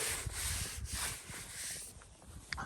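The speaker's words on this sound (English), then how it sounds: "if I take some snow and I just rub it on there real quick" Snow rubbed by hand across the face of an 1875 gravestone in a snowy cemetery, a close, steady scraping and brushing that swells and eases in short strokes, with no voices.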